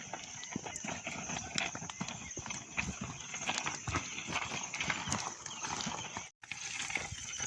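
Hooves of a working bullock clop steadily and close while it ploughs a village field, a continuous shuffling, thudding rhythm with rustling ground noise and no talk.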